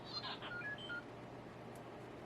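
Phone notification: a brief series of quick electronic beeps and tones at the start, quiet and close, then near-silence with faint room noise.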